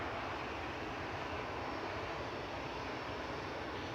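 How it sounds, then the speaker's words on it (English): Airbus A320 jet airliner at Manchester Airport, a steady, loud, continuous engine roar with a constant broadband rush and no change over the span, no talking. "Next up for departures, GEZWB, an A320 Classic, 11-year-old aircraft, operating flight 2275 over to Enfida."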